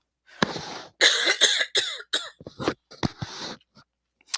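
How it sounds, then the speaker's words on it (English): A person coughs repeatedly up close, a series of harsh, raspy bursts with brief gaps, ending in a few smaller coughs. "I still have my cough from previously"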